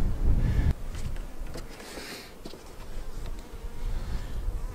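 Honey bees buzzing close by at a hive during a hive split, the drone rising and falling as they move around, with a few soft knocks and rustles.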